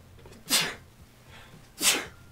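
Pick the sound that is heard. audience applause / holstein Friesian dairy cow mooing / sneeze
sneeze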